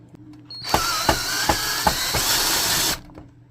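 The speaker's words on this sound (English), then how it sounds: "there's a screw right here and on this side, and we're gonna remove those. You need a Phillips head screwdriver tip" A power screwdriver with a Phillips tip backs a screw out of a Canon Pixma printer, one steady whirring burst of about two and a half seconds with a few sharp clicks inside it, close and isolated.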